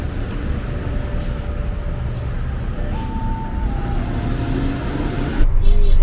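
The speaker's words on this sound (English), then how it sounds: "after about a 5-minute wait, the bus to Mitla came" A bus to Mitla in Oaxaca pulls up with a steady engine rumble and road noise throughout, brief tonal whines over it, and a louder rattle near the end.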